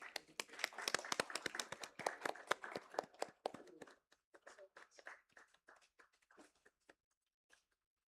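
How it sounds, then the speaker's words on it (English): Audience applause at a university event: a burst of hand clapping from a seated crowd, dense and loud for about four seconds, then thinning into scattered individual claps that fade out. "Can we have a round of applause for her?"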